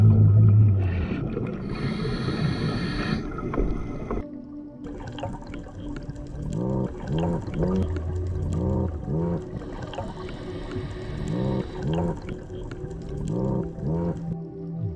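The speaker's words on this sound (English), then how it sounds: "That right there is a toadfish and the sound it makes." A toadfish calls underwater on a scuba dive in Belize, giving repeated low grunting pulses and hums in rhythmic bursts, close and fairly loud over the bubbling hiss of diver breathing.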